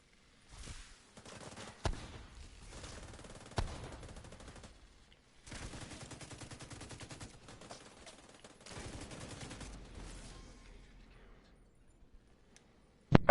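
Gunfire from The Division 2, with rapid automatic bursts that come in several long sustained strings and a few sharp single cracks, separated by short gaps and ending with a loud burst at the close.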